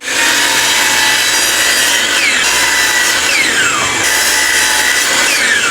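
Saw cutting wooden picket boards to length, a loud continuous rasping cut close by with steady strokes throughout and no voices.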